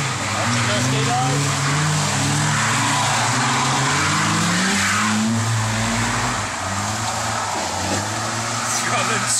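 A Toyota KE70 car skids and revs at a roundabout, its engine droning loudly and continuously with shifting pitch and tyre noise throughout, while people shout and talk over it.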